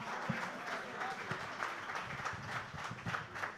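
An audience applauds the speaker at a new media gathering in Nigeria, a fairly faint, sustained clatter of many hands with a voice heard over it.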